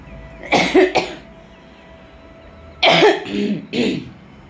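Two bursts of coughing, each a pair of rough, hacking coughs close by, separated by a couple seconds of quiet.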